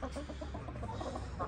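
A broody hen clucks softly in a Zonguldak village setting, a run of low, muffled clucks close by over a steady rumbling background.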